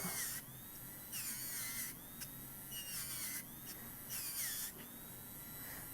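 A small rotary tool buffing a metal earring post soldered to metal clay, a thin high whine that swells in several bursts of grinding contact and eases back between them, steady and close with no talking.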